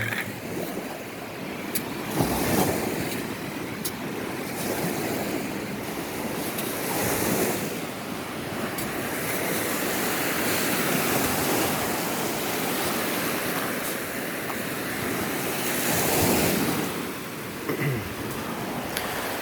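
Surf washes steadily onto a Lake Michigan beach strewn with black sand, waves surging and retreating in soft swells under constant wind buffeting the microphone.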